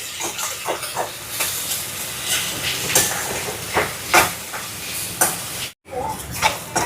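Finely chopped small shallots sizzle and hiss in a pan, a steady frying crackle with bursts of sharper spitting and stirring scrapes, close and fairly loud, with one brief dropout near the end.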